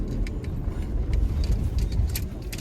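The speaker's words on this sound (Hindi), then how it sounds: "चलो ट्राई करता हूँ, मैं गाड़ी उठा पाऊँ।" A car pulls away over a rough, badly broken road, with a steady engine rumble and scattered rattles and clinks from the bodywork throughout.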